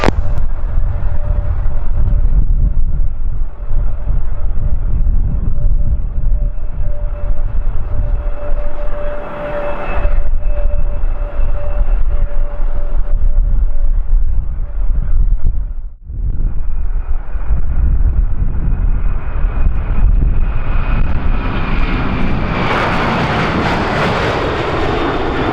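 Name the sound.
Japan Air airliner taking off at Kagoshima Airport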